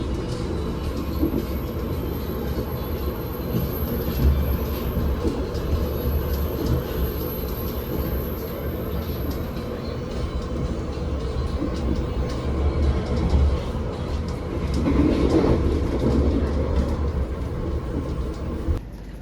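Interior ride noise aboard the Argo Wilis train in Indonesia: a steady low rumble and rolling hum of wheels on rail, with a faint high whine at first and a swelling clatter near the end.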